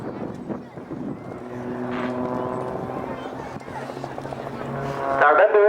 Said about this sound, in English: listen to the engine whir and work as they come down, all in unison and all in formation